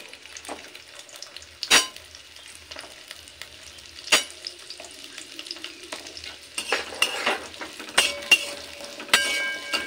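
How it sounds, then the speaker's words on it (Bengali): Carrots frying in white oil in a pan at home, a soft steady sizzle broken by sharp clinks and scrapes of a spatula stirring, growing busier toward the end. "তো আমি সাদা তেল দিলাম, সাদা তেলে সবজিটা ভাজবো"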